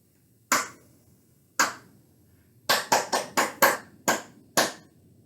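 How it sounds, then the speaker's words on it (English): Sharp hand claps in a rhythmic pattern: two spaced claps, then a quick run of six, close and crisp with silence between. "listen to the clapping patterns that I make for my hand"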